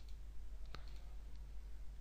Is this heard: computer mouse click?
yes